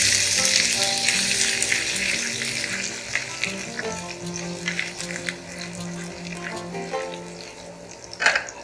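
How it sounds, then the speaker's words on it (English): Grated ginger fries and sizzles in hot oil in a pan, a steady crackling hiss with occasional stirring clinks and a sharper spatter near the end. "Let's cook the ginger for 3 minutes."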